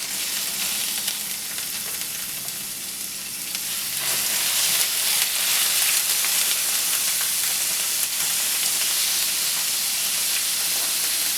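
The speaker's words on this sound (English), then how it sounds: "You can hear the sizzle, so you know that it's warm." Shrimp sizzle in hot avocado oil in a pan, a loud, dense frying hiss that swells as more pieces go in and then holds steady and close.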